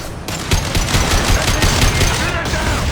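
Rapid automatic gunfire rattles in a dense, unbroken burst in Mass Effect 2 as shooters fire to bring down a loose fuel tank. The shots are loud and close, with voices faintly under them.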